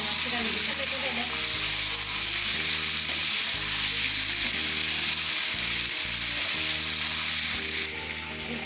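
Chicken frying with turmeric and salt being stirred in, a loud, dense, constant sizzle with rhythmic scraping of a spoon through the pan.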